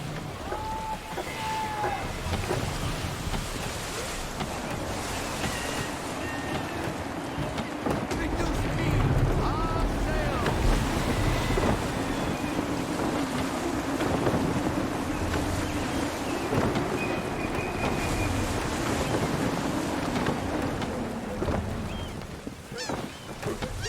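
Steady gusting wind and washing waves surround a sailing ship at sea in Assassin's Creed III, a continuous broad rush with creaks and faint cries mixed in throughout.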